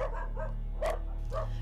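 Dogs at a dog slaughterhouse bark and yip in several short, sharp bursts over a low steady hum, moderately close, with no talking.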